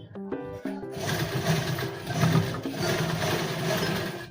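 A sewing machine stitches pleats into a garment, running steadily up close after a brief clattering start, with a faint voice in the background.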